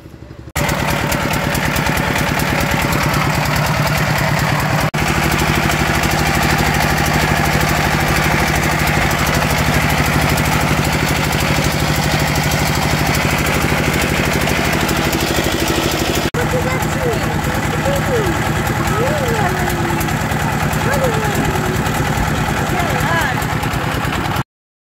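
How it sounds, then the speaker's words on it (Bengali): A boat engine drones loudly and steadily on the Matamuhuri river, a continuous mechanical rumble filling the whole stretch, with voices faintly mixed in beneath it. "আর ইঞ্জিনটার যে আওয়াজ, সে আওয়াজে আসলে ওখানে কোনো ভয়েসও দেয়া যাচ্ছিল না"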